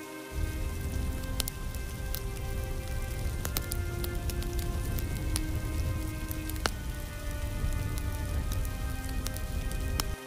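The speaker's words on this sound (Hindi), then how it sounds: "बारिश भी बहुत ज्यादा हो रही है" Heavy rain pours down steadily, a dense continuous hiss with scattered sharper drops landing on nearby surfaces, loud and unbroken throughout with no voices.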